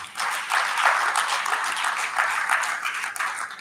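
A summit audience at a political parties' and stakeholders' opening session bursts into applause, a full, fairly loud round of clapping that rises and swells unevenly for several seconds before tailing off.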